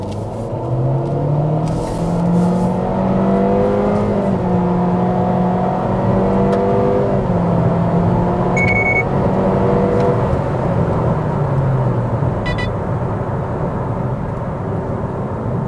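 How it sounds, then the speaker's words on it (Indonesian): A Honda HR-V RS turbo in sport mode accelerating from 0 to 100 km/h from a standstill without launch control: a loud, continuous engine drone heard from inside the cabin, its pitch climbing and dropping back through several gear changes. "Posisinya di sport mode untuk HR-V dari 0 sampai 100 tanpa launch atau tanpa RPM."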